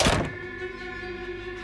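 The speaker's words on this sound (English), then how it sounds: "slammed the back door behind him as he exited furiously" A single heavy thunk of a back door slamming shut, loud and close at the start, then fading into a steady low hum.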